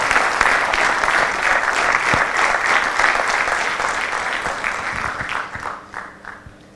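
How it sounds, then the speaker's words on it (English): Audience at an orators club's 15th anniversary celebration applauding contributors: a loud, sustained roar of many clapping hands that thins out toward the end, with a few scattered claps trailing off. "Can we have a huge round of applause to all these contributors?"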